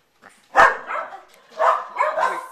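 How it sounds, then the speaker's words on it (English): Excited dogs bark in a short burst of several close, loud yaps and woofs separated by brief gaps. "Let's record the doggies going crazy."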